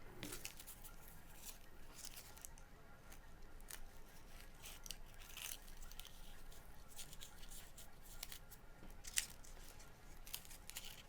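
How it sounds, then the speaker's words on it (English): Scissors snipping crepe paper flower stems shorter, several faint crisp cuts scattered through a quiet, close-up background. "I might cut them shorter."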